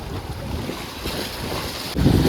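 Sea waves wash and splash against rocks along a shore during a fishing outing, a steady broadband rush with wind buffeting the microphone and a louder surge near the end.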